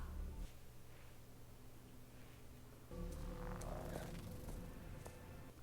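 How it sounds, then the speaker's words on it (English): A low, steady purring rumble runs throughout, growing slightly louder and fuller midway, with faint higher clicks and chirps above it. "I hear its little purring."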